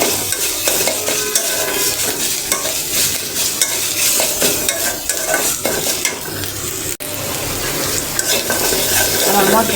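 Ginger, garlic, cumin and dried chilli paste sauté in a hot pan with a steady, close sizzle, and a spoon scrapes and stirs through it throughout. Nobody talks.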